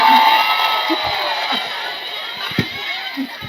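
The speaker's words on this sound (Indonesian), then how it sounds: "tepuk" A crowd of children at a Quran study session cheers and shouts, with a steady noisy roar and a few louder whoops.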